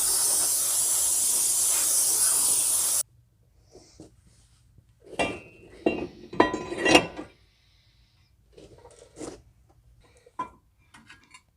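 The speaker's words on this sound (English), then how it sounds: "take a little brake clean and spray them down" Brake cleaner sprayed from an aerosol can onto the brake rotors of a car being refitted with new wheels and tires: a loud, steady hiss for about three seconds, then quieter clinks and handling noises.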